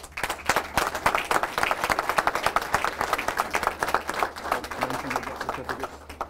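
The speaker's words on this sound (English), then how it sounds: "Round of applause for him." A small audience at a police department awards ceremony claps in a brisk, uneven round of applause, moderately loud, with murmuring voices underneath toward the end.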